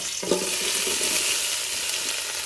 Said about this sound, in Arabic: أول شي بنزل شوية زيت، ملعقة كبيرة سمن، والآن بنزل البصل